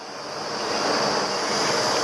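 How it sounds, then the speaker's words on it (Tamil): A steady, loud, rushing roar of milk and water boiling hard in a pot, continuous and unbroken throughout. "நம்ம பாலும் தண்ணியும் கலந்து வச்சோம் இல்லையா, நல்லா கொதிக்குது"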